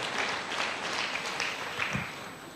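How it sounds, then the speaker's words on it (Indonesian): A church congregation applauds during a sermon with steady, dense clapping that continues without a break and fades slightly toward the end. "Berikan tepuk tangan yang meriah buat Tuhan."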